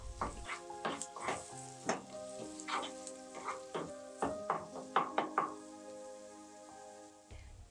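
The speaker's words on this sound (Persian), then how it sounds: "بعدش 2 قاشق غذاخوری ربم میریزیم و خوب تفتش میدیم تا ربمون سرخ بشه." Chopped onions and tomato paste sizzle and fry in a pot for barley soup, with crackling bursts and scraping stirs in an uneven rhythm, close and moderately loud with no talk.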